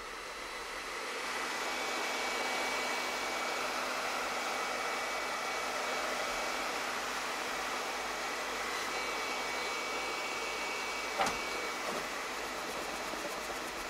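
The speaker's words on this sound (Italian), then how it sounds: "E ora glieli sto asciugando col phon" A dual-power 1200 W hair dryer blowing steadily indoors while drying hair, a continuous airy whoosh that holds at an even level for most of the stretch, with one brief click partway through and no talk.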